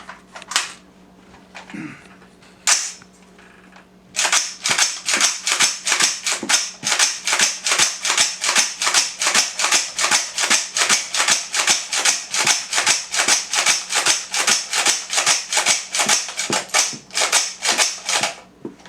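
A 7.62x39 AR-15 rifle fires in a long, steady string of loud, sharp shots, dozens in fairly even rhythm, close by, after a few seconds of quieter handling sounds.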